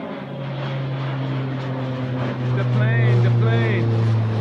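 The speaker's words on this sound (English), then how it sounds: "The plane!" A droning propeller airplane hums steadily and grows louder as it passes overhead at Lake Tahoe, while people talk and call out nearby.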